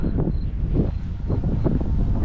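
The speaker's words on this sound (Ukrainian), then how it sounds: "Блін, якби не вітер." Steady, blustery wind buffeting a microphone, a continuous low rumble with gusty swells throughout.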